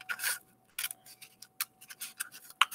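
Scissors snip through material while maracas are being made, a series of short, crisp cuts and rustles up close, irregularly spaced with brief quiet gaps and a sharper click near the end.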